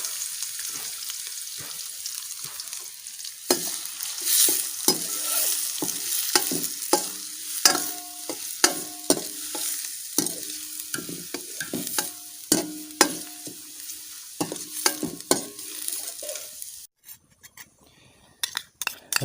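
Finely chopped onions fry in oil while a spoon stirs them, giving a soft continuous sizzle broken by repeated scrapes and light metallic clinks against the pan, with no speech.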